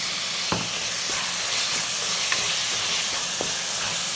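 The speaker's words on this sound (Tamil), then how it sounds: "உப்பு நல்லா இந்த கிரேவில எல்லாம் சேர்ற அளவுக்கு கலந்து விட்டுக்கோங்க" Salt being stirred into a tomato chicken curry gravy in a pan, a steady sizzling hiss broken by a few sharp spoon scrapes and clacks, close by, with no talking.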